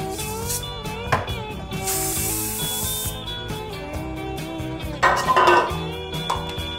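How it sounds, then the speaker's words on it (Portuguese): Cooking spray hisses steadily onto a pudding pan being greased for a cinnamon roll crown, one sustained burst of about a second over background music, with later clinks of metal pans. "Eu vou untar essa forma para não ter perigo de grudar nada."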